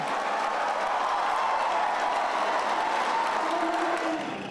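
Supporters cheer and shout inside a packed gymnasium at a presidential debate, a steady, loud crowd roar with broadband noise that holds for several seconds before easing slightly at the end.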